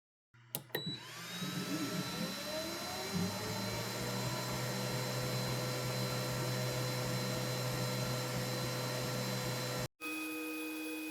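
An xTool M1 Ultra laser engraver runs while engraving a high-resolution image, giving a loud steady fan-like whir with a brief clatter at the start and a sudden drop near the end.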